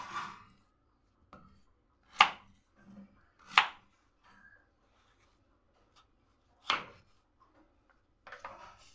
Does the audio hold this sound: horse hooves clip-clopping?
no